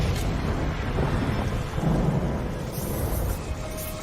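Thunder from a lightning strike rolls as a loud, continuous low rumble lasting several seconds, with no talking over it.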